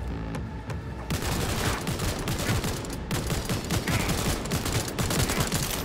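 Dense, sustained rapid gunfire in the game Cyberpunk 2077, loud and continuous automatic bursts after a brief pause, with no talk.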